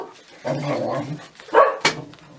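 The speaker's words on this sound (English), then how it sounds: "I'm sure he thinks that Nelson's a great big guard dog" A dog barks loudly at the postman indoors, a few sharp, close barks in quick succession after a short growling, yappy lead-in.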